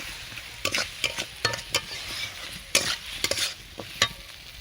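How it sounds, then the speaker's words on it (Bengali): Cut potatoes fry in spice paste and oil for a rohu fish curry, with a soft sizzle under repeated scraping stirs of a spoon against the pan. "দিয়ে এই মশলার সঙ্গে কিছুক্ষণ ধরে ঢাকনা চাপিয়ে চাপিয়ে কষাতে হবে।"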